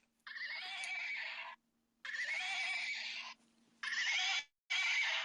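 A horse whinnies in four long, shrill, squealing neighs, one after another with short gaps between, close and clear against near silence.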